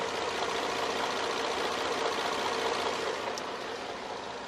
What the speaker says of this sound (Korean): 엔진 소음 먼저 들려드리면